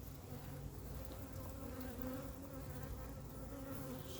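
A queen honeybee being marked gives off a steady, soft, continuous buzz with no break, fairly faint, with no talking.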